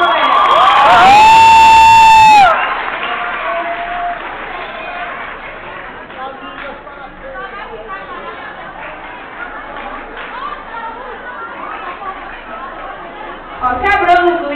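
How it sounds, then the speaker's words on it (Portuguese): Crowd at an English-language school festival cheers and shouts loudly with whistles for a renowned English teacher, a roaring burst over the first couple of seconds, then lively chatter and milling crowd noise continue, with a voice rising near the end. "Uma salva de palmas para ela."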